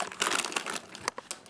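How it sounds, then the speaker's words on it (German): A hand rummages in a Lay's potato chip bag, giving loud, close crinkling bursts of plastic foil that rustle continuously before tapering into a few sharp isolated crackles. "Jetzt hat er einfach hier in die Tüte reingegriffen und hat sich einen Chip rausgeholt."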